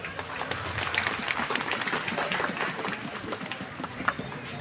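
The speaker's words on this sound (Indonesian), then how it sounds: "Sekali lagi tepuk tangan untuk semua teman-teman imigrasi." Steady applause from an audience honouring immigration staff at an evening gathering, a dense continuous patter of clapping at moderate distance.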